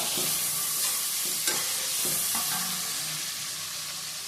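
Green chili and charred tomato paste sizzle in a hot pan. The frying hiss is continuous, and a spoon scrapes and stirs through it at intervals.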